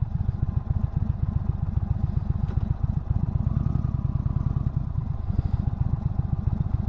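A V-twin motorcycle engine runs steadily close by, a loud, even low-pitched thumping pulse that holds without a break and without talk.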